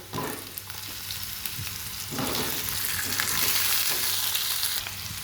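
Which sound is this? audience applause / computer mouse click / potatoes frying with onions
potatoes frying with onions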